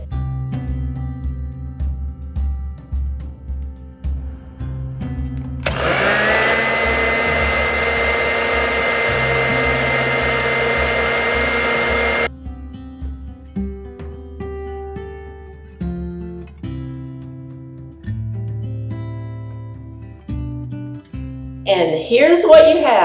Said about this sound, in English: Then you put the rosemary leaves and the simple syrup in a blender,